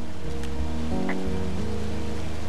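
A waterfall in the video game Firewatch roars as a dense, constant rush, overlaid with low tonal game music and a brief bright blip.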